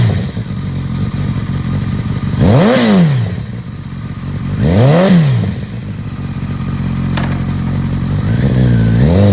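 A used 2008 Kawasaki ZX-10R superbike engine revs loud and close in two sharp rising-and-falling bursts, settling back to a steady idle between them with no talk.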